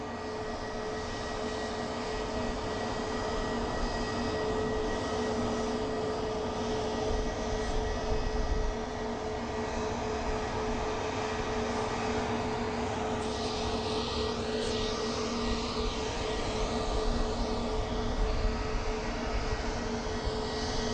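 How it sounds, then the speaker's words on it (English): Airbus A320neo jet taking off from Southend Airport, a sustained loud engine roar with a rumbling low end and shifting whine, steady throughout with no voices. "So nice seeing an A320neo here."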